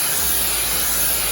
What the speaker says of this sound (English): you can see I'm a good 12 inches away, spraying the blue in a circle